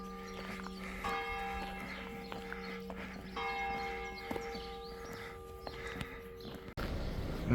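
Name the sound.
church bells ringing in a Gers village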